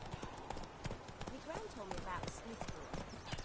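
Horse hooves clip-clop steadily at a walking pace in The Witcher 3, close and rhythmic, with voices and game sounds over them.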